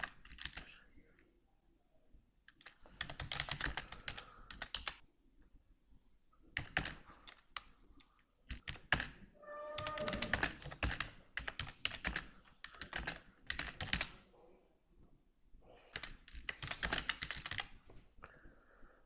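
Typing on a computer keyboard in Microsoft Word, bursts of quick close key clicks separated by short pauses, with no talking.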